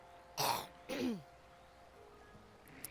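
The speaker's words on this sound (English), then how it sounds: "I'm gonna start coughing" Close up, a person clears their throat with two rough, throaty coughs, then quiet room noise follows.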